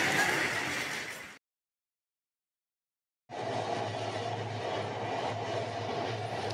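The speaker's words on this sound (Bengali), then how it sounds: "কুষ্টিয়া ভ্রমণ শুরু আমার সুন্দরবন এক্সপ্রেস ট্রেন দিয়ে" The Sundarban Express passenger train runs with a steady, loud rolling rumble and rattle, cut off by a gap of silence before the same constant roar resumes.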